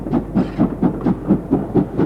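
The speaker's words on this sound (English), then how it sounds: "Also at Snow Hill on a snowy day was this Castle class locomotive." A Castle class steam locomotive at Snow Hill on a snowy day chuffs in a steady, even rhythm of about four beats per second, loud and close with no voices.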